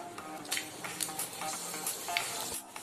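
Whole cloves and cardamom pods spit and sizzle in hot mustard oil in a wok, quiet crackling with several sharp pops scattered throughout, no voices.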